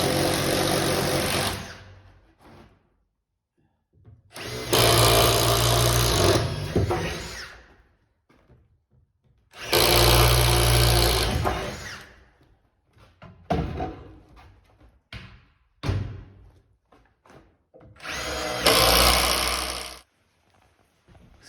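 A power drill bores holes through wooden wall studs to run electrical wiring in a house under construction. It runs in loud, sustained bursts of several seconds, separated by short pauses and a few brief clicks, with no talking.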